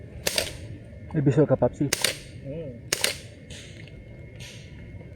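Three sharp gunshot cracks ring out in a jungle setting, spaced roughly one second apart, with someone speaking briefly between the first two shots.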